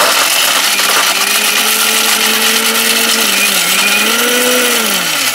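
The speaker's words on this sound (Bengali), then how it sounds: "এই যে দেখেন এক ব্লেন্ডারে সবকিছু আপনারা করে, এক ব্লেন্ডারে সব করবেন ভাই।" A high-power kitchen blender runs loud and steady throughout, its motor whine dipping and rising slightly in pitch as the load changes, with no voices over it.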